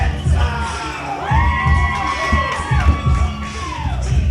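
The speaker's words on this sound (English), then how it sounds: "The crowd is getting hyped up." A wrestling arena crowd roaring for heavyweight champion Apollo, dense loud cheering with high whoops and sustained shouts swelling across the whole hall.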